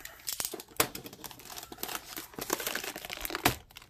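A cardboard box for a Motorola Rokr Z6M phone being cut open, close scraping, tearing and crinkling noises in irregular bursts, with no talking.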